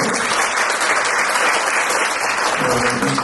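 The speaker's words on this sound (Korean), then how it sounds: "큰 박수로 환영해 주십시오." An audience at a Korean cybersecurity conference and hacking-contest forum applauds to welcome a presenter onstage, a dense, steady wash of clapping from many hands that stays loud and even throughout, with no talk over it.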